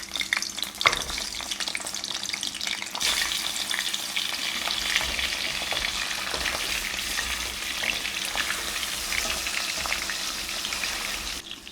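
Boiled mutton for rogan josh stirred in hot oil in a wok, a continuous close sizzle with occasional spatula knocks, steady and unbroken throughout.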